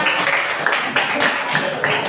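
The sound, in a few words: class applause, clapping hands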